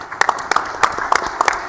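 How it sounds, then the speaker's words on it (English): Sparse, scattered claps from a small group, a handful of hands striking unevenly for a couple of seconds with no voices. "I'd like you to just stand so we can give you a round of applause."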